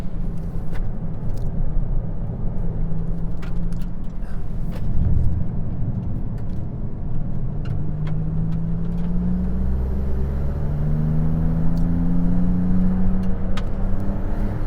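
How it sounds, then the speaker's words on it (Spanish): A Maserati MC20's V6 engine runs with a deep steady rumble and hiss while driving, pitch slowly rising and falling as revs shift, loud and continuous without talk. "el motor emite todo tipo de siseos, rugidos, gruñidos y alaridos propios de un propulsor térmico"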